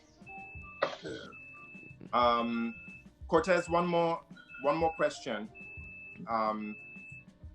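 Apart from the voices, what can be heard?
beeping in a speaker's background at work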